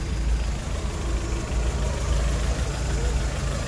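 A car with a 1.6 engine idles at a used-car market, a steady low rumble that stays even and close throughout, with no breaks or revving.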